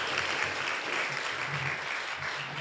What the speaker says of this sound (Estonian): teeme Rutile aplausi.